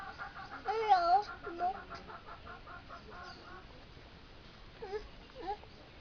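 Chicken clucking and crowing-like calls, close by, in short bursts early on, then a few more squawks near the end over a quiet outdoor background.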